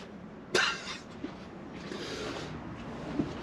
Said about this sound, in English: Stop coughing, woman.